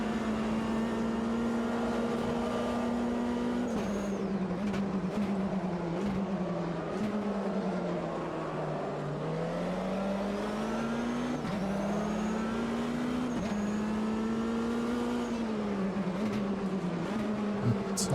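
Race car engine in Automobilista 2 at Daytona, a steady loud drone that dips and rises as the car brakes into turn one and accelerates again, sustained throughout with no talk.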